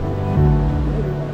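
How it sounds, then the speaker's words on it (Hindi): Sea waves wash onto the beach at Azhimala near Thiruvananthapuram, a broad, steady roar of surf lasting the whole short moment, with some wind. "लहरें काफी सुंदर लग रही है इधर से।"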